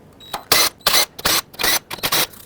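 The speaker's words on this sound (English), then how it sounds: "Now there are 8mm bolts all around that need to be loosened up." A ratchet loosens 8mm valve cover bolts on a 2007-2010 Chrysler Sebring with the 2.4L engine, about six short, sharp bursts of clicking, close and loud, separated by brief pauses.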